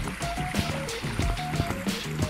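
Waterfall on the beach map in the Gorilla Tag video game: a continuous liquid splashing and gurgling with repeated short tonal blips and bubbly pops throughout, at a moderate level with no voices.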